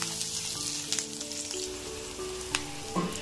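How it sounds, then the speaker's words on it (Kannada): Finely chopped onions and green chillies fry in a pan for a chicken parota bun filling, giving a steady near crackling sizzle with a few light stirring clicks. "ಇದೆಲ್ಲ ಪೂರ್ತಿ ಬಣ್ಣ ಬದಲಾಗೋವರೆಗೂ ಹುರ್ಕೋಬೇಕಾಗತ್ತೆ."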